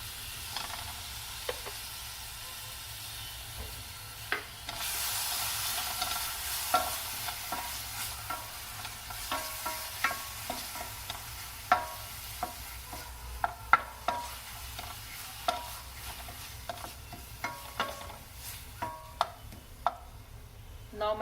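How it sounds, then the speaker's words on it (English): Chopped tomatoes going into a hot pan for a gnocchi sauce, followed by a soft steady sizzle and scattered clicks of a spoon stirring against the pan, close and fairly quiet with no speech. "Going to add my tomatoes now. So these are chopped tomatoes"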